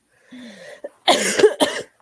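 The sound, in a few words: cough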